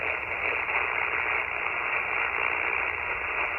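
Heavy static hiss on an amateur radio band from an Icom IC-705 receiver, a steady, dense, band-limited rush of noise at constant level with no voices.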